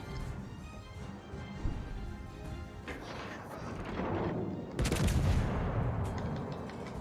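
Heavy battleship guns fire in a World of Warships Legends naval battle, a string of booming salvos and crashing impacts that swell louder toward the end and layer over steady game background noise.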